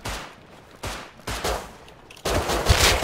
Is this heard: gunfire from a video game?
yes